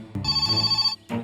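A telephone ringing in an animated cartoon, one bright electronic trill that is close and clear, followed by a short pause and the start of a second ring.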